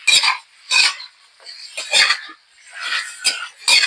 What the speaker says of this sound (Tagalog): Tapos, igigisa. Stir fry.